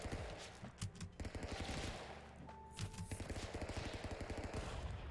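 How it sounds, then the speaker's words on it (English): An Uzi in Stick Fight fires in rapid sustained bursts, dense machine-gun rattle continuing almost without pause, loud and close with a brief tone mid-way. "Uzi really just hold down left trigger and shoot"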